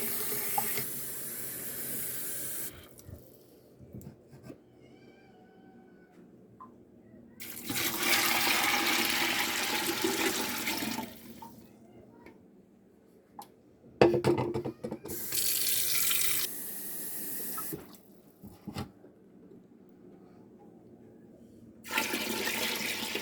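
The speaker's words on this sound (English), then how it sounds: "I'll add the water to cover these beans good" Tap water runs in several bursts, pouring into a pot to cover dry beans for cooking, with quiet pauses between the fills.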